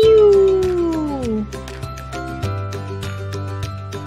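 A cat-like meow glides downward at the start over background music with steady tones and beats; the cry may be vocal or synthesized.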